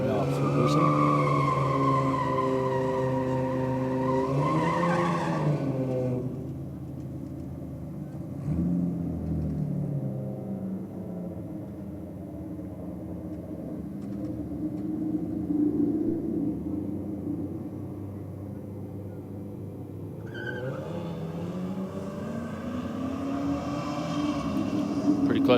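Drag race cars, a Ford Falcon and a nitrous Barra ute, launching at a no-prep event: loud roaring engines sweep upward through the gears, fade into distant rumble, then another rising roar builds near the end.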